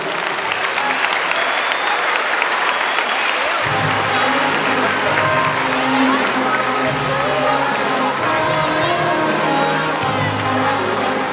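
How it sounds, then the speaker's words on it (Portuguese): An audience applauding at a school ceremony in Artur Nogueira, loud sustained clapping from a large crowd, joined partway through by swelling music and continuing to the end. "Uma salva de palmas."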